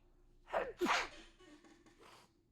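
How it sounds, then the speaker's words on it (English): A single sneeze, close and fairly quiet, with a sharp intake of breath before it and soft breathing afterward. "I finally got that sneeze out."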